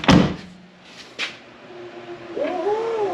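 Rock Slide Engineering Gen 3 power step sliders on a 2021 Jeep Gladiator EcoDiesel deploy as the door opens: a sharp clunk, then a steady low motor hum that rises into a wavering whine near the end.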